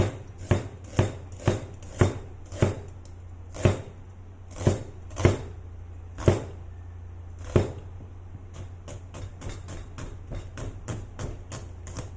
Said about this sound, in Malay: So bawang dan halia ni kita kena potong dia lah, kita kena potong dia